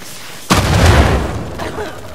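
A mummy bursts apart in the Uncharted 4 video game with a sudden loud boom. The blast settles into a long, rumbling debris wash that fades over about a second and a half.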